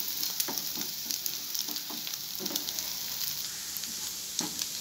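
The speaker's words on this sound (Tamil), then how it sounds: "நல்லா ஃப்ரை பண்ணுங்கள்" Chicken chukka frying in a pan sizzles steadily and crackles close up, with repeated light scraping stirs spread through the hissing and no talking.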